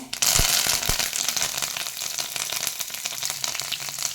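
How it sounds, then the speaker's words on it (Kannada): Mustard seeds and curry leaves sizzle and crackle loudly in hot coconut oil, a dense, steady frying hiss with a few sharp pops near the start, with no talking. "2 ಚಮಚ ತೆಂಗಿನ ಎಣ್ಣೆ ಹಾಕ್ಕೊಳ್ಳಿ. ಸಾಸಿವೆ, ಕರಿಬೇವಿನ ಎಲೆ"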